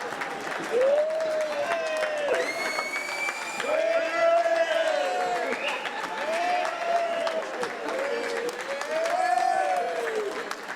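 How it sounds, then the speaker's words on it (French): Audience at a family gathering in Saint-Laurent-du-Mottay clapping continuously for a dance group, dense steady applause with cheers and whoops rising over it. "merci de les applaudir énormément"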